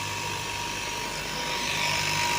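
Garment factory fabric cutting machine running with a steady, loud mechanical whir and hum, an unbroken drone that holds for the whole stretch with no voices.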